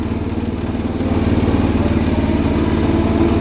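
A 1979 John Deere 216 lawn tractor with a replaced variator drives in fourth gear, its engine running as a steady, loud, rumbling drone that rises slightly as it picks up speed.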